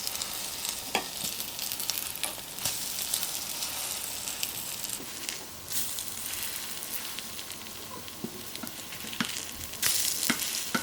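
Patties of ground eggplant batter fry in oil in a pan, giving a steady, close sizzle with scattered pops and crackles throughout.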